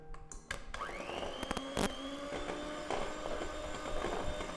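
An electric mixer beating sticky toffee pudding cake batter after an egg is added. The motor whirs up to a steady, close whine, broken by a few knocks and clunks against the bowl, with no voices.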